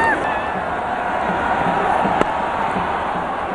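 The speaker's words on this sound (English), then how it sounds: "the crowd now, they can't even sit down, they're on their feet" Cricket stadium crowd on its feet during a match, a dense, steady roar of cheering and babble filling the whole stretch at close, loud level, with one sharp clap-like accent partway through.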